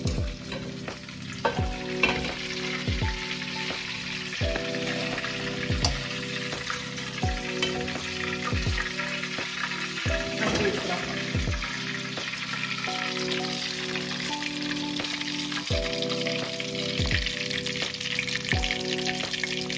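Chicken 65 frying in a hot pan, a steady loud sizzle throughout with regular knocks of a utensil stirring and scraping the pan roughly every second or two, with no talking.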